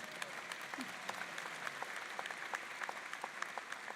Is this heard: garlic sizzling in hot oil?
no